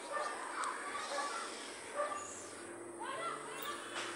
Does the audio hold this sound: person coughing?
no